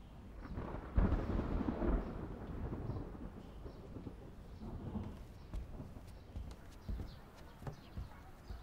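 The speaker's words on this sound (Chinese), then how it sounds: "刚才晴空万里，这忽然又打雷了。" Thunder rumbles in a low, rolling wash across a sudden change of weather, with a stronger burst near the start and softer swells that follow, along with faint patter and scattered knocks. No one speaks.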